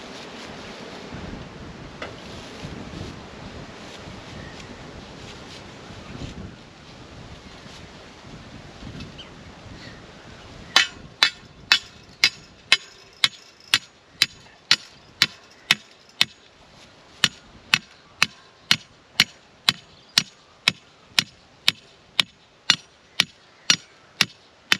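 Heavy hammer blows drive star picket steel fence posts into the ground on a windy country property, a steady run of sharp metallic strikes about one per second, loud and close, following a stretch of gusty wind noise.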